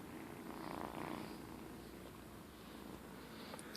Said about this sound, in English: Little purr monsters, aren't you?